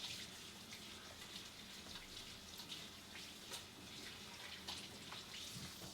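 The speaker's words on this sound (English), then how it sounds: "So let me wash off my hands here because they're getting a little sticky." Hands are rinsed under a running kitchen tap while apple pie is being made, a faint, steady splashing stream heard at a distance throughout.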